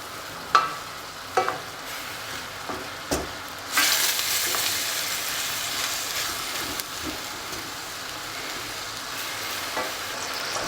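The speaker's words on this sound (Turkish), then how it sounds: "İki baş soğanımız var ekliyoruz. Kavurmaya devam ediyoruz." Onions sizzling and frying in a pan, a steady crackling hiss broken by a few sharp clinks and scrapes of stirring.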